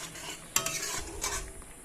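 Spice paste frying in a pan as it is stirred, a couple of bursts of scraping and crackle over a soft sizzle, close and fairly quiet.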